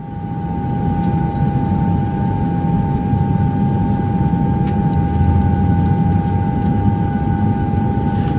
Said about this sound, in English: We're getting ready for takeoff. Can you hear that? We're in the plane.